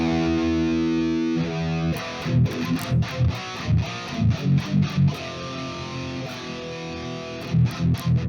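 Heavily distorted electric guitar with scooped mids for a hollow death metal tone: a sustained chord, then chugging palm-muted riffs in tight rhythmic bursts.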